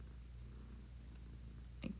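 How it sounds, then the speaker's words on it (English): A cat purrs softly and steadily in a quiet room, with a brief small noise near the end. "If you can hear Wren purring"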